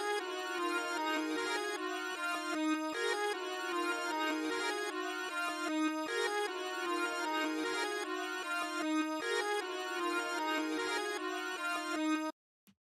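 A reversed, pitched-up vocal sample pattern from FL Studio loops for eight bars, repeating dense, shimmering tonal phrases in a steady cycle with no talk before stopping sharply near the end.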